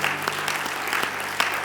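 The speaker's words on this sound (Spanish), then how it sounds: "Dale un aplauso de alabanza al Señor." Church congregation clapping in praise at the close of a prayer, a steady wash of hands with a few sharp louder claps standing out over a low hum.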